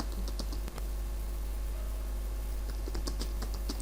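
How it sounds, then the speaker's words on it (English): Typing on a computer keyboard while writing a C# calculator program, quick soft key clicks in scattered bursts over a faint steady hum, close and quiet with no talking. "let's just type here"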